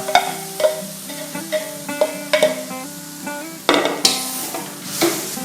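Shredded coconut sizzles softly in a hot pan as it is dry-roasted for a pandan coconut filling, a utensil stirring and scraping, with repeated clinks against the metal.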